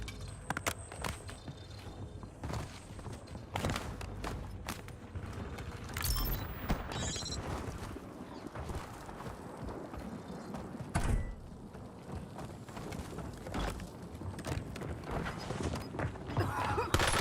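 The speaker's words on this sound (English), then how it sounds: "Switching mags." During a Warzone video game match, a weapon magazine is swapped through a long run of mechanical clicks, clacks and ratcheting rattles, with irregular close handling noises throughout and a few sharper metallic snaps along the way.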